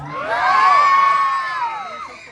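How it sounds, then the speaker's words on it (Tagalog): A crowd at the Queen of Ilagan 2025 beauty pageant cheers and shouts loudly, swelling quickly into sustained high-pitched whoops and screams that hold for about two seconds before easing slightly. "How about malakas na hiyawan dyan?"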